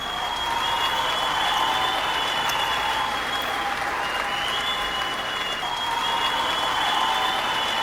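Steady, dense applause from a crowd, continuous and loud throughout with no breaks.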